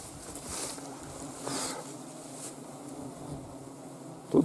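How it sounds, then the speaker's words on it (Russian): A steady, low boat motor hum runs beneath wind and water noise out on a taiga river trip, with a couple of louder swells and a brief knock at the end. "Тут гудит, как будто двигатель работает"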